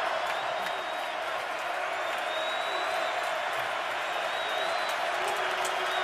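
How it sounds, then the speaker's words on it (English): A football stadium crowd at a Steelers at Ravens game roars steadily for the home defense, a dense, continuous wash of distant cheering and shouting from the stands with no break. "Crowd exhorting and imploring its defense."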